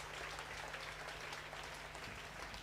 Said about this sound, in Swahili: So clap our hand to Jesus.